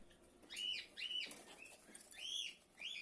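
Diamond doves flutter inside a small cage, giving soft bursts of wing flapping mixed with faint high chirps, close by and fairly quiet, with no talking.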